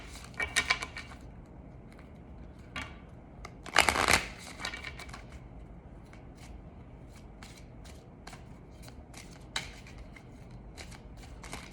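Tarot and angel cards are shuffled by hand, with a quiet riffle at the start, a louder burst of shuffling midway, then soft, scattered card taps and flicks.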